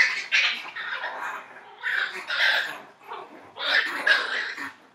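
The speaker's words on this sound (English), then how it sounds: "A little bit of a puppy fight here." Sibling puppies scuffle close by, with bursts of high yips, barks and little growls coming in uneven waves.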